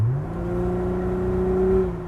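A low, steady engine drone from a Plymouth Prowler with a rising then settling pitch, heard muffled from inside the car cabin, continuous and fairly loud.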